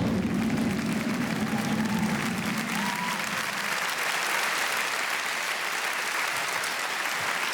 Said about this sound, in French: je vous demande de faire un tonnerre d'applaudissements, s'il vous plaît, pour Monsieur Poulpe